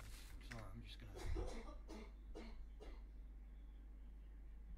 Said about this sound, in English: I can hear you coughing through my headphones